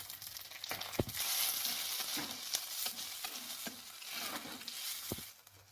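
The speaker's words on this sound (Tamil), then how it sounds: "நறுக்கி வச்சுருக்கக்கூடிய வெங்காயம் கருவேப்பிலை மிளகாய் எல்லாத்தையும் நம்ம அதில் போட்டுருவோம் போட்டு நல்லா வணக்கிடலாம்" Chopped onions, curry leaves and chilies sizzle and fry steadily in a pan while a spoon scrapes and stirs with occasional sharp clinks, no voices.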